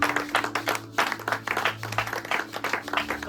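A church congregation bursts into applause in praise of God, dense hand-clapping in quick irregular bursts that fill the room steadily throughout.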